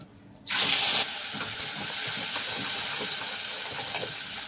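A sudden loud sizzle erupts as spice paste hits hot oil with whole cumin seeds, then settles into a steady crackling fry that continues close by.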